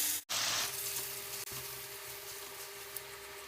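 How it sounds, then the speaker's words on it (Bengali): Marinated mutton hitting hot oil in a pot for mutton biryani, setting off a loud, steady sizzle that bursts in suddenly after a brief silence and hisses continuously, with a faint stir-like knock midway. "এবারে ম্যারিনেট করা মটনটা এর মধ্যে দিই।"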